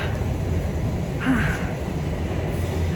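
Train at a Toronto station during a severe winter snowstorm, heard as a steady low rumble of rail cars and a brief squeal near the middle, with station ambience around it.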